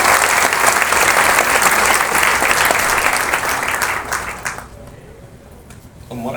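Loud, dense applause from an audience at an event honoring a host, sustained for several seconds before fading out near the end.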